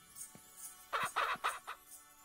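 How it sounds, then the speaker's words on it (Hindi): A hen in the farming game Ranch Simulator gives a short run of clucks, several quick bursts close together after one soft note, fairly quiet and alone. "मुर्गी जाग गई, एक भी बच्चे हुए क्या"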